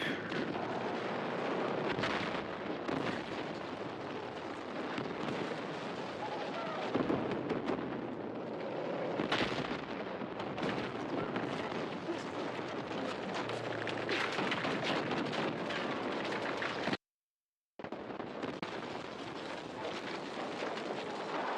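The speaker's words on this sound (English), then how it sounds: "Nice, someone blew up the tank." A tank blows up amid a loud, chaotic video game battle, with heavy booms and blasts over a constant roar of gunfire and wind-like rumble, briefly cut to silence near the end before the din resumes.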